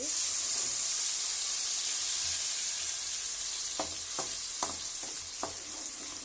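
Mint, coriander, ginger and garlic paste frying in hot oil gives a loud, steady sizzling hiss throughout, with several brief spoon taps against the pan near the end.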